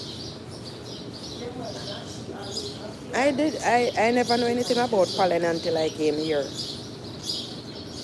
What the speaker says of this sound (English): These birds are, this is like a bird sanctuary.